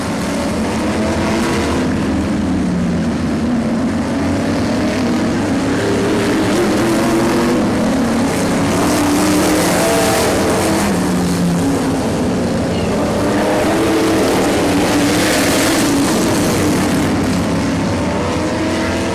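Race cars run laps on a dirt track, their engines droning and swelling as they pass, with two louder surges as packs roar by, forming a continuous loud wash of motor noise.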